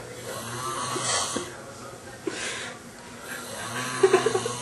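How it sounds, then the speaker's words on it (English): A sleeping man snores through several slow, rasping breaths, loud and close, with faint background noise and a sharper cluster of snorts near the end. "Stop snoring"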